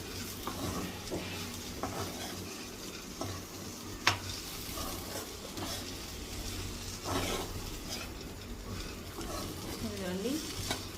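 Okra and boondi stir-fried in a pan, with a soft continuous sizzle and occasional scraping of a spatula and a sharp clink against the pan, faint and close.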